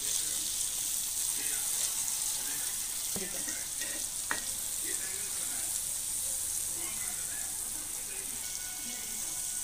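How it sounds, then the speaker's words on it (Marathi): Salted cluster beans (guar) frying on low heat in a pan, a steady bright sizzle with a couple of sharp scraping clicks from stirring, close and even throughout. "साधारण 10 मिनिटे मंद आचेवर अशी वर खाली परतवतच राहायची आहे"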